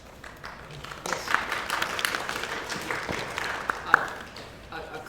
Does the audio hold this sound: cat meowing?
no